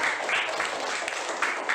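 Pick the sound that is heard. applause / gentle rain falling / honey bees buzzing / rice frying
applause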